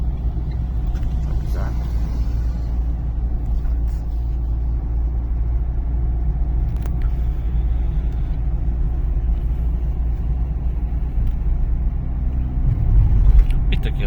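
A manual car driving in second gear on a driving-test course, its engine giving a steady low rumble throughout and swelling slightly near the end, with no clear speech.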